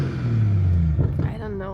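BMW E46 Coupe drift car engine idling loudly with a deep low rumble, heard from close by, with a slight rise in pitch near the end.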